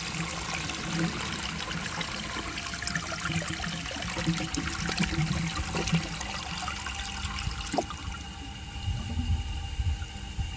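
A 1970 Montgomery Ward toilet flushes during a clog test, a continuous rushing swirl of water that runs loud and even, then thins to a softer trickle near the end.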